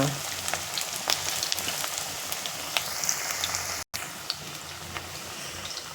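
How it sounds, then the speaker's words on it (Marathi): Steady crackling sizzle of food frying in hot oil, with sharp pops and spits scattered throughout, close by and fairly loud. "आता आपण तळून घेऊ तुम्हाला तळून आवडत असेल तर तळून घ्या"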